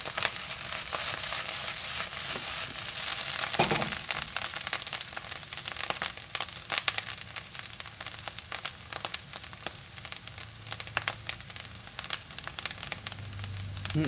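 Black trumpet mushrooms, bacon and onion fry in a pan with a steady, dense sizzle, crackling and popping throughout with occasional soft stirring noises and no talking.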